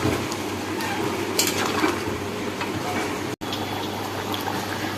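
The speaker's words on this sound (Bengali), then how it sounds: "পরিমাণ মতো জল দিয়ে দেবো" Water being poured into meat curry in a pot: a steady, close gush and bubbling of liquid lasting several seconds, with a brief cut partway through.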